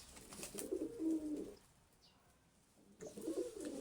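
Domestic pigeons kept for breeding coo in two low, throaty bursts separated by a quiet pause, close by and faint, with no voices.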